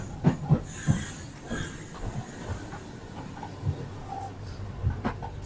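Interior of a Soviet-era passenger train running from Almaty to Tashkent, with steady rolling rumble, rhythmic clickety-clack thumps of the wheels and soft hiss throughout, no talking.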